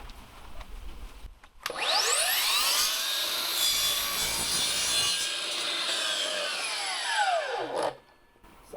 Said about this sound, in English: So I'll mark that right there, and we'll do another miter cut following that line.